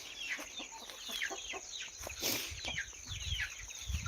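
Chickens in a village farmyard cluck at evening shut-in time, a busy overlapping stream of short clucks and chirps close by, with a low rustle underneath.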